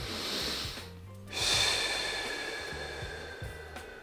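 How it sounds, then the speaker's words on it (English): A person drawing a deep breath during a neck stretch, a close, soft airy inhale that swells to a louder rushing breath midway, then fades away gently. "taking a deep breath"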